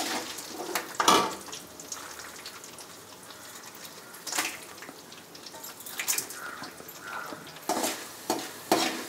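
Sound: garlic and chilies frying in oil for drumstick leaf stir-fry

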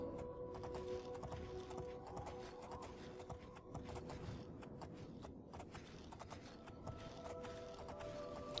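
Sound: horse hooves in a video game

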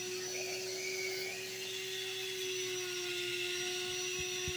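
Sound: sanding an opal by hand

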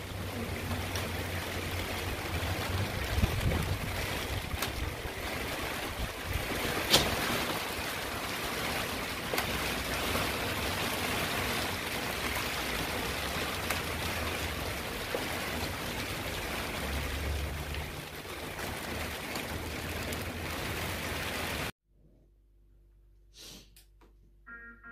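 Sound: heavy rain

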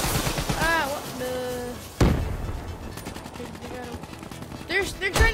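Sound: gunfire in Call of Duty Black Ops III video game

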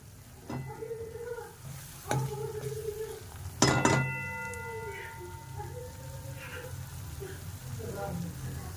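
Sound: chicken cooking in a pan

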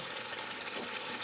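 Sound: chicken frying in pan for chicken karahi

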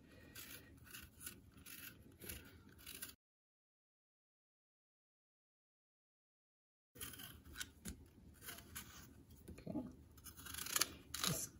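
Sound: peeling apples

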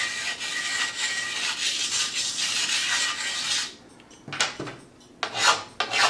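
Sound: ceramic stone dulling a ski edge

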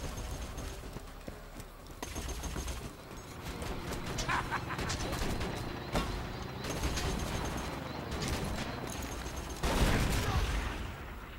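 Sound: bombing and gunfire in Borderlands 2 video game

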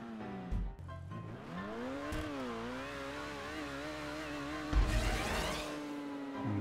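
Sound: car accelerating in GTA 5 video game

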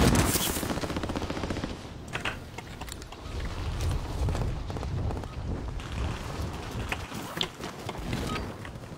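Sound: gunfire from a video game

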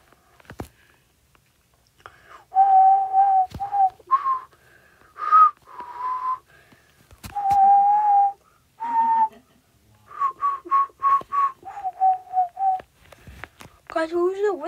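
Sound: whistle in a video game

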